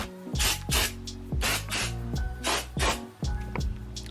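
Aerosol cleaner sprayed in a rapid series of short hissing bursts onto an Infiniti G35 coupe's intake plenum, about eight puffs in a quick uneven rhythm, close and clear with no voices.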